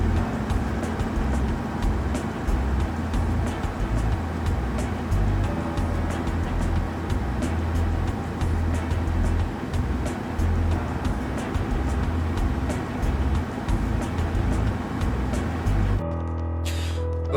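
A car drives along steadily, its low engine and road rumble continuous and fairly loud, cutting off abruptly near the end. No one speaks.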